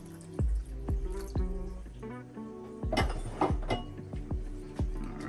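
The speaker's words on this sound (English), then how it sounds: "Let's go and get that water in there just like so." Water pouring and splashing into a pot of beef and vegetable soup with tomatoes, a run of drips and plops followed by a fuller gurgling pour, close by and moderately quiet.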